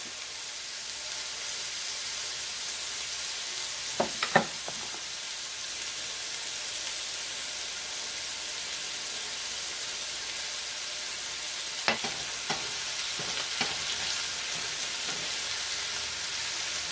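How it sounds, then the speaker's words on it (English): Green beans and mushrooms saute in a pan with salt and pepper, giving a steady, even sizzle and hiss throughout, broken by a few faint utensil clicks and scrapes. "Just saute them for a couple of minutes."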